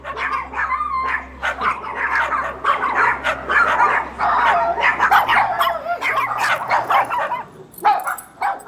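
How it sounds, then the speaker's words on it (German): Several dogs in an animal shelter barking, yipping and whimpering in quick irregular bursts, loud and close, overlapping one another with a low steady hum underneath. "Sind hier immer so viele Hunde?"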